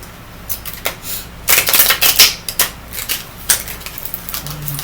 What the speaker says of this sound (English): let's get a good little shuffle going